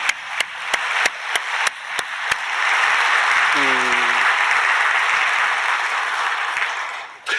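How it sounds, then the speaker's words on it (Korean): A church congregation claps together during a Sunday service, opening with a few separate claps before swelling into sustained, loud applause that fills the room, with a brief voice underneath. "크게 한번 박수 한번 해주시기 바랍니다"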